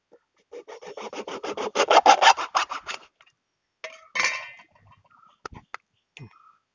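A plastic piece for a hand wash bottle being sawn through at the top, a close run of rhythmic rasping strokes that builds then stops, followed by a few scattered knocks and scrapes.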